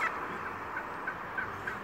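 Wild turkey on Staten Island gobbling outdoors, a series of short, fairly faint warbling calls repeating at a steady pace against quiet ambient background.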